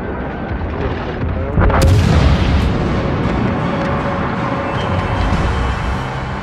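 Ship guns firing astern in a naval warfare game, a single heavy boom with a rumbling tail over constant loud engine and sea noise.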